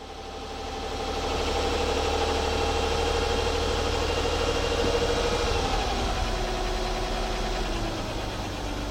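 A 2004 Nissan Maxima 3.5 V6 with a lean-running fault idles steadily after the throttle is released, a close, constant mid-pitched engine hum with a slight settling in pitch toward the end, no voices over it.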